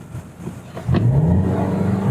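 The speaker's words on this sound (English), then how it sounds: "3000 RPM is max, it'll hold to" A VW Tiguan Allspace engine revs up on launch control and holds steady near 3000 RPM, a rising mid-pitched drone that settles into a sustained hum, loud and close with no talk.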